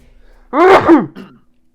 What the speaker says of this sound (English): I just coughed at the same time you just sneezed.